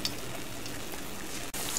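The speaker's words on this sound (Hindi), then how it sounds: "ताकि जो है वो प्रॉपरली दोनों तरफ से फ्राई हो जाए" Besan phulkiyan fry in hot oil over a half flame, a steady close crackling sizzle that runs continuously with only a momentary dip near the end, no voices.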